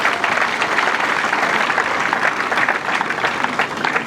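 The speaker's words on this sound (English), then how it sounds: "I think you should clap for yourselves." Steady, dense applause from a crowd at a government camp commissioning ceremony in Nigeria, continuous and fairly loud throughout, with no break.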